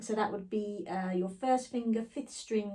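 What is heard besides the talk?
No distinct noise like a dog, phone or traffic.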